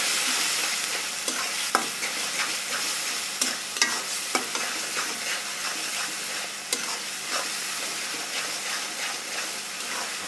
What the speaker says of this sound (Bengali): এখন আমরা এগুলো ভালো করে কষিয়ে নেব।